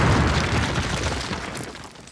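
An explosive charge set on a cinder block wall in Call of Duty goes off as a loud, deep, rumbling blast that fades away over about two seconds.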